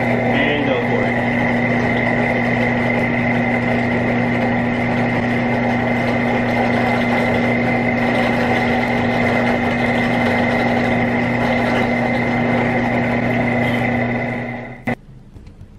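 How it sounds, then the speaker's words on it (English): A drill bores holes with a 7/32 bit in a small craft build, a loud steady motor whine with fixed tones holding for about fourteen seconds before cutting off abruptly. "I'm using a 732 drill bit, and I'm just going to do my best to center these the best I can."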